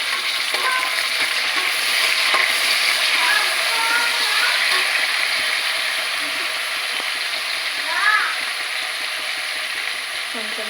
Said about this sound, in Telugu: టమాటా ముక్కలు వేసిన తర్వాత కొంచెం సాల్ట్ వేసుకొని వేయించుకుంటే తొందరగా వేగిపోతాయి